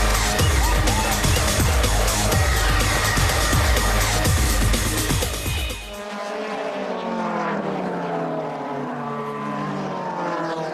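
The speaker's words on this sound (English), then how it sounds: "The Salzgitter Steel back car of Gary Paffett there in 4th place, and just losing touch" DTM touring race cars roar past loudly at Brands Hatch, a dense, close engine blast that cuts off abruptly partway through and gives way to quieter, more distant engine whine from cars further around the circuit.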